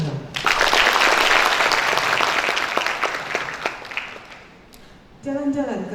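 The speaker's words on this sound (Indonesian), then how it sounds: "Tepuk tangan dong" Audience clapping at a nursing school capping day ceremony, a loud burst of applause that swells, then fades after about four seconds, followed by a voice over a microphone.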